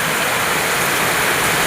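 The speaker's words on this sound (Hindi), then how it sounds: "इतनी रात को बारिश हो रही है" Heavy night rain pours onto a tin roof in a loud, dense, unbroken hiss that stays constant throughout, with no voices.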